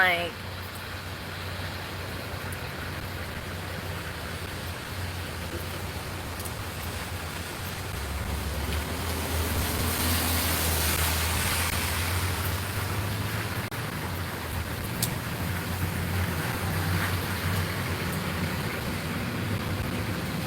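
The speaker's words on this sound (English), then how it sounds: "It is so loud out here. I don't even know how y'all can hear me. Between the rain and the cars" Rain falls outdoors beside a road as cars pass, a steady wash of hiss and rumble with a swelling passing-car whoosh in the middle, under a person talking throughout.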